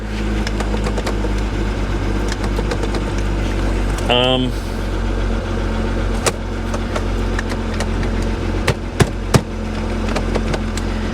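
A salvage car at a Copart auction yard runs poorly with its service engine light on. The engine gives a loud, steady low drone that goes on throughout, with a brief rising whine partway through and a few sharp clicks near the end.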